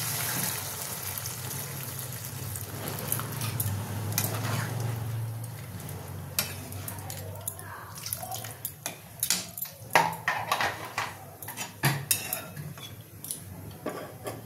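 Water poured into a pan of boiled potatoes and elephant foot yam for a rohu fish curry, a hissing pour with clinks of a utensil against the pan, close and fairly quiet.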